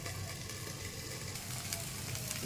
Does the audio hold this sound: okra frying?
yes